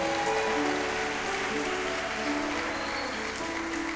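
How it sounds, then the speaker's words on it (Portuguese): A church congregation applauds during a live prophetic Thursday worship service, a steady dense wash of clapping that carries on without a break under lingering musical tones. "Você pode aplaudir aí, Jesus?"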